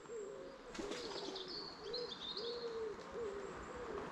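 Wood pigeons coo in the countryside in a soft, repeating rhythmic phrase, clear and fairly close, with faint higher bird chirps above.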